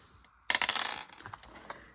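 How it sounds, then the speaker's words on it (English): Two dice rolled in a game of Shut the Box clatter in a quick burst of sharp clicks and rattles, settling within about half a second, with faint follow-up taps. "I'm going to roll 2 dice"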